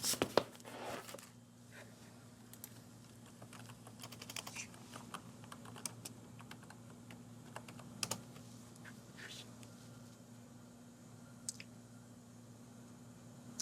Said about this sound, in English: So I'm gonna type this address.